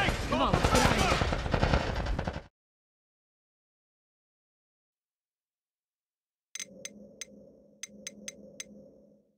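Video game shootout gunfire, a burst of loud action and shouting followed by silence, then a close run of sharp shots firing in quick irregular volleys.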